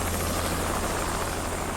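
A helicopter drones steadily and loudly, its dense rotor and engine roar filling the whole span without a break, close and constant.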